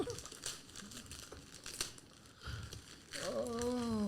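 A package wrapped in double layers of duct tape is pulled and torn open, with crinkling, tearing rips in short bursts. A voice speaks near the end.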